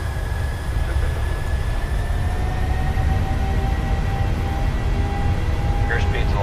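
Boeing 737 jet engines spooling at takeoff power in the PMDG flight simulator on a runway at Gatwick, a steady loud broadband roar with faint tonal whine running throughout, cockpit voices speaking over it.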